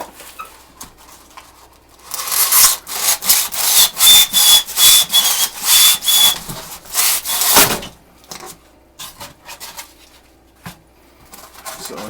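An old hand saw converted into a large razor blade cuts through a Styrofoam block, giving a series of about a dozen rapid, scratchy rasping strokes in a steady rhythm, loud and close, followed by quieter handling noises.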